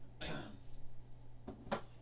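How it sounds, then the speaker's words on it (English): A quiet, close throat clearing, one rough rasp followed by two shorter clears over a faint steady hum. "so I can clear my throat there"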